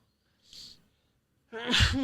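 A single sharp sneeze, preceded by a faint short intake of breath, close and clear against a quiet background.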